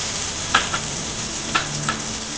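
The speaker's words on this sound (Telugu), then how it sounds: "ఉల్లిపాయలు కొంచెం బ్రౌన్ కలర్ వచ్చే వరకు వేయించుకోవాలి. చూసారా ఫ్రెండ్స్ ఎలా వేగుతున్నాయో ఇందులో." Onions sizzle and fry steadily in a pan for chole curry, with a few brief louder crackles or stirring scrapes breaking the constant close hiss.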